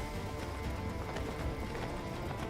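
Horse hooves clatter in a rapid galloping rhythm in the video game Persona 3 Portable, a muffled, steady run set against a dense background.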